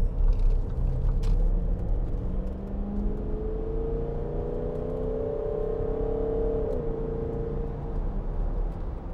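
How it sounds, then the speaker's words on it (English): A 2012 Range Rover 4.4 TD V8 Westminster accelerating hard, a loud deep engine rumble with a rising whine as revs climb, then a gear change and a fresh climb, steady and close from inside the car. "get the wheel straight and then we can gun it."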